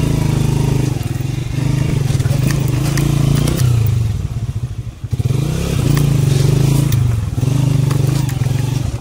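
A motorbike on a tour near Tilla Jogian is worked out of rough, rocky ground, its engine droning loudly and steadily with revving surges, a dip midway, and scraping and clattering over the terrain.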